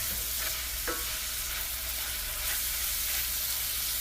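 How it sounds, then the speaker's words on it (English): Corn fries in vegetable oil in a skillet, a soft continuous sizzle and crackle heard up close and fairly quiet, with a few light clicks of stirring and no talking. "So I want it to fry."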